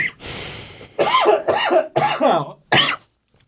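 A person coughs several times in rough, harsh bursts with short gasping breaths between them, close and fairly loud.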